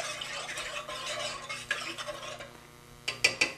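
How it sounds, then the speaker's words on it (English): A tablespoon of salt being stirred into water in a pot, heard as soft continuous swishing, then a few sharp spoon clinks against the pot's side near the end. "On this one, we'll add a tablespoon of salt. Go ahead and mix it in."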